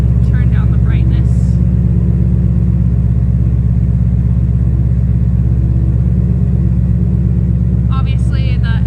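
A Ford Mustang engine idles with a steady low rumble close by, a deep continuous drone filling the background throughout.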